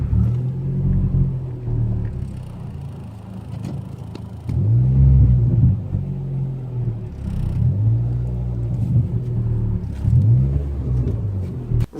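A car with a straight pipe exhaust revs repeatedly, each blip swelling into a loud, deep rumble then falling back to a throaty idle, about four revs in a row, close and alone.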